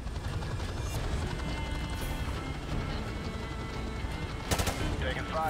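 Distant, continuous rattling gunfire and battle noise from the Modern Warfare Remastered video game during a helicopter beach assault, with a brief louder burst near the end under a low engine drone.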